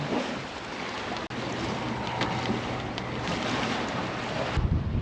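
Sailboat heeling and racing another boat on the Curonian Lagoon near the Curonian Spit: steady wind buffeting the microphone over a continuous rush of water along the hull, loud and unbroken.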